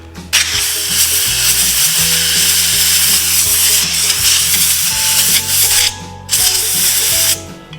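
Compressed air blows through a rinsed, dirty air filter from a Predator 3500 inverter generator, a loud continuous hiss close by with two brief breaks near the end.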